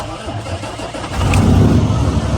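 A semi truck engine rumbles low and steady, then swells louder about halfway through as it catches and runs while the air brakes build pressure, with faint voices in the background.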